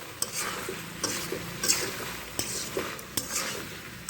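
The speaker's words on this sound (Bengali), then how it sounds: "এবার একসাথে আমি কষিয়ে নেব।" Soybean chunks stir-fried in a pan with potato, greens stalks and raw banana, heard as repeated close spatula scrapes and knocks over a soft, steady sizzle.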